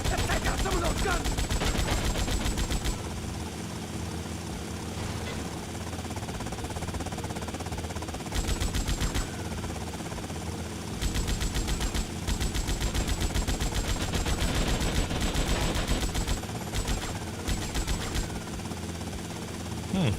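Automatic gunfire in a GTA III or Vice City shootout, loud rapid bursts of machine-gun fire repeating in long stretches with brief gaps between volleys.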